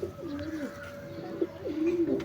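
Pigeons coo nearby in soft, rolling low calls, repeated several times against a light outdoor background, with no talking.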